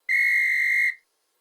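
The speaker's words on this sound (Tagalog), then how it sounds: "pito," A single loud, steady whistle blast lasts nearly a second, clear and close, then stops abruptly into silence.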